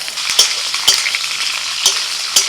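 Sliced ridge gourd fries in hot oil with nigella seeds and green chillies, a loud, close, continuous sizzle broken by four sharp scraping stirs of a spatula at roughly half-second intervals.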